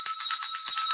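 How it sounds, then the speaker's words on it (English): A bell rings on a livestream, loud, bright and sustained through the whole second with no break. "Ring the bell for that one"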